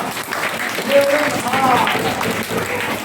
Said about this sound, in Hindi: राजा कुमारी के लिए जोरदार तालियां।